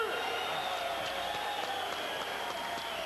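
A crowd applauds a fighter after a submission win at a combat sports event, a steady wash of clapping and cheering at moderate level, with an announcer's voice faintly mixed in.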